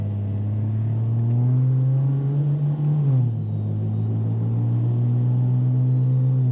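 A car engine hums at a steady idle, rising in a rev around the middle then dropping back, with exhaust burbles and a low rumbling exhaust throughout.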